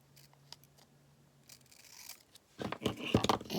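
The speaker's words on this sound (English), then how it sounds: "I'm going to cut this right here" Scissors snipping through craft paper while decorating a Christmas card holder journal, a few quiet close scrapes and clicks building to louder crisp cutting sounds near the end, with no talking.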